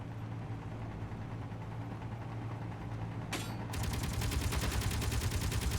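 Automated turrets firing in Space Engineers, a steady low rattle of distant shots that suddenly swells into louder, denser rapid fire after a sharp burst midway through.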